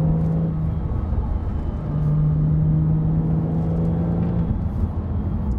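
Porsche Cayman S engine while driving on wet, cold roads on summer tires. A steady low rumble and drone with a faint rising tone is heard from inside the cabin, with no talk.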